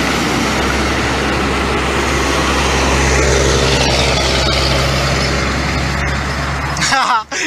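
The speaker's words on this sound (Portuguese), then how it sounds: "vai passar uns caminhões aqui do meu lado." Trucks roll past close by on a roadside near a market, producing a continuous loud engine roar and road rumble throughout.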